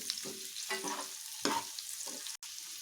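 Boiled eggs frying in hot oil for an egg masala sambar give a steady close sizzle, broken by a few scraping stirs of a spoon through the pan and one brief dropout near the end.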